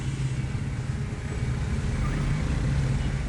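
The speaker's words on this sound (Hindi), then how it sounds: "इशारा खुल गया है लेकिन ट्रैफिक इधर ज़्यादा है।" Road traffic in Rawalpindi during rain, heard as a steady low rumble of engines and wet road noise from inside a moving vehicle, with no talk.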